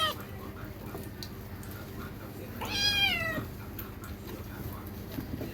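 Two-month-old kitten gives one clear rising-then-falling meow during a bath at a pet grooming salon, heard over a steady background hum.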